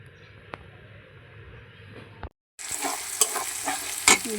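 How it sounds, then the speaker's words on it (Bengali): Potatoes and eggs cook with spices in a pan at home, a ladle stirring and scraping through them over a soft sizzle; brief quiet, then louder, busier stirring and clatter close by. "এখানে আলু দিয়ে ডিম রান্না করতেছি সব মশলা দিয়ে"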